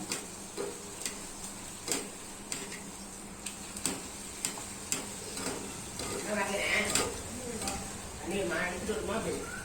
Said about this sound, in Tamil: இப்போ பூரியை போட்டு பூரி இது மாதிரி உப்பி வரணும்